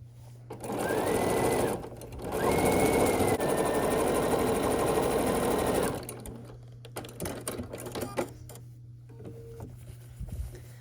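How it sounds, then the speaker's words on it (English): A sewing machine stitches fabric units together for a scrappy sampler quilt block, running in two close, steady whirring bursts with a short pause between them, then stopping, followed by quiet handling noises. "then we're going to sew a top-bottom unit onto one portion"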